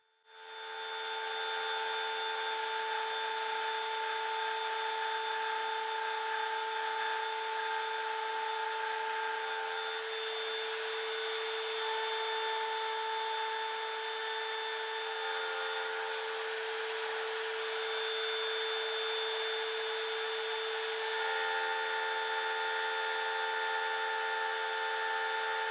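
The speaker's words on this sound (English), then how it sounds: "I did a small test on an aluminum block, and the router did quite well." A router in a homemade milling setup cuts an aluminum block, giving a steady, loud, high-pitched motor whine with bright harmonics that holds for the whole stretch and shifts tone slightly near the end, with no talking.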